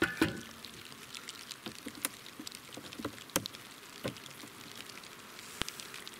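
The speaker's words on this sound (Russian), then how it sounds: "Падает дождь." Rain falls by a beehive with scattered, crisp drops tapping on surfaces at irregular intervals over a quiet background.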